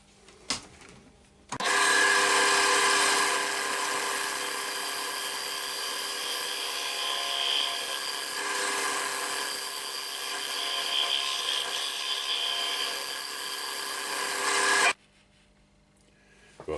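A lathe-turned tulipwood bowl being scraped: a loud, continuous, close rasping whine with a steady hum underneath, starting abruptly and cutting off about thirteen seconds later, with quiet before and after.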